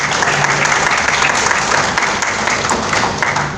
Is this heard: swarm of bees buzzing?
no